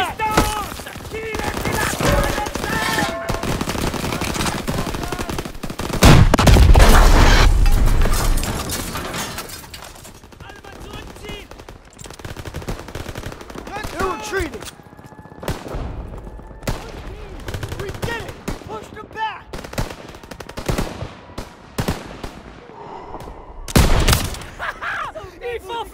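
Loud battle gunfire rattles through a World War II fight in Call of Duty WWII, with overlapping rifle and machine-gun bursts, a heavy blast partway through, and shouted voices mixed in.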